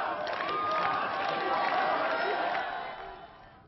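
A crowd gathered outdoors around a trophy brought from Athens, a dense continuous roar of many voices and cheering, loud and sustained before fading slightly at the end.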